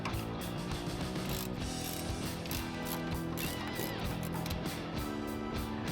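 A ratchet clicks rapidly and continuously while backing bolts out of a rear axle flange brake bracket on a Chevy Biscayne/Impala, close up and mechanical, with a steady metallic pawl rattle throughout.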